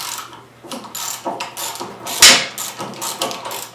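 A wrench breaks loose the front axle on a Vstrom motorcycle, with a few ratcheting clicks and mechanical clunks, then one sharp metallic crack of the axle letting go, close up and without talk.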